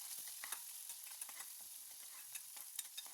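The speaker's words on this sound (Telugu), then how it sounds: "ఇలా ఆనియన్, కరివేపాకు వేసుకొని ఒకసారి అన్నీ బాగా ఫ్రై చేసుకుందాం అండి" Onion and curry leaves frying in oil for a ridge gourd curry give off a quiet, continuous sizzle with crackling pops, close and even throughout, without any talking.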